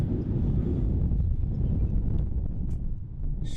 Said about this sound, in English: there you see the wind ripping